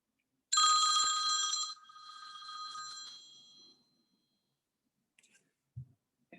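A telephone rings once in a loud burst on a phone connection attempt, fading into a quieter trailing tone, followed by near silence and a couple of faint clicks.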